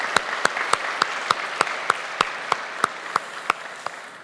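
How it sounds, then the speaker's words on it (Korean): A church congregation gives encouraging applause, a full crowd of clapping punctuated by loud, evenly spaced rhythmic beats about three per second that carry throughout. "우리 전도폭발 참여하시는 분들과 참여 스태프들 위해서 우리 격려 박수하겠습니다"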